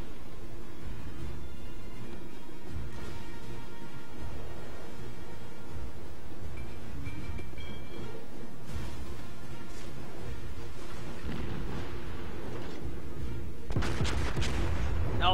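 Enemy battleship gunfire in the World of Warships naval game booms repeatedly under a dense, continuous wash of game noise and engine rumble, with heavier blasts near the end.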